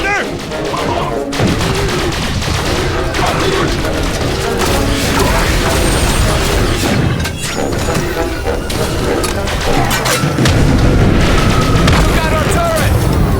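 A turret goes up during a chaotic firefight in The Bureau: XCOM, buried in dense, loud game combat with constant booms, gunfire and crashes, and shouted voices throughout.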